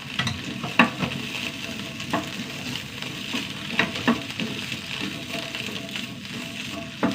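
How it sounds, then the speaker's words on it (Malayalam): Okra dry-frying in a pan with no oil, a steady low sizzle and crackle broken by repeated scraping and stirring knocks, close up with no voices. "എണ്ണയില്ലാണ്ട് വറുക്കണം വറുത്തെടുക്കട്ടെ വെണ്ടയ്ക്ക വറുത്തു"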